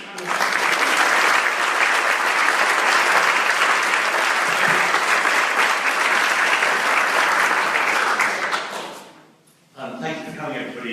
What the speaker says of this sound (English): We'll have one last clap for the panel, and then Giles will say a last few words.